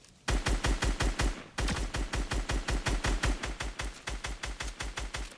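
Rapid automatic gunfire from a first-person shooter video game, two long bursts of evenly spaced loud shots separated by a brief gap, close and dominant.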